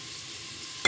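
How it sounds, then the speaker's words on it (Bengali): Hot oil with a chopped onion in a frying pan gives a steady sizzle, close and even, then swells sharply louder at the very end. "এখন আমি কেটে রাখা বড় একটা পেঁয়াজ দিয়ে দিচ্ছি"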